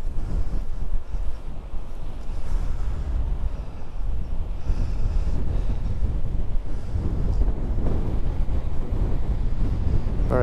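Blustery wind buffeting the microphone on a coastal headland by Kinbane castle, a loud continuous rumbling roar with heavy low-end thumps throughout.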